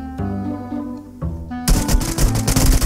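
Automatic gunfire in the video game PUBG Lite during a team deathmatch, starting after a quieter stretch of game music and then bursting loud and rapid, close by, with no talk over it.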